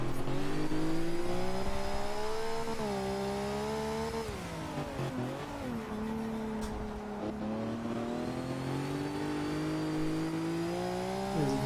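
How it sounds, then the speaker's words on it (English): A Nissan race car on an onboard lap through the stadium section at Circuit of the Americas, its engine droning loud and close with rising and falling pitch through gear changes, shifting down and back up, with no talk. "let's ride on board for a lap with LRT Breeze here as he goes through the stadium section and you can check out the power of this Nissan"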